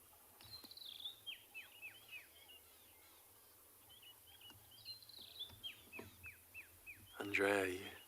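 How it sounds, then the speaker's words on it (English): Birds wake at dawn in the South African bush on a morning safari, giving repeated thin, falling chirps in two bursts of calls, then a brief louder, harsher call near the end over a quiet background. "Let's sit and listen to this lovely morning as the birds wake up."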